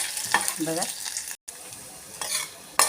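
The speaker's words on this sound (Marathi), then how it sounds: "हे बघा, असं पूर्ण तेलामध्ये गोल्डन रंगावर थोडे तळून घेते" Bombay duck fish (bombil) fries in hot oil until golden, a close, steady sizzle with a brief dropout and a few clinks of a utensil against the pan, with no talking.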